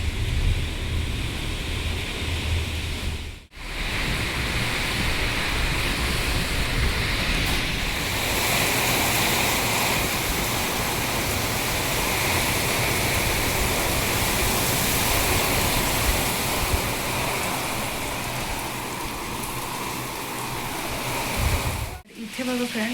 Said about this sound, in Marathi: एवढा भयानक वारा, धूळ, पाऊस, सगळं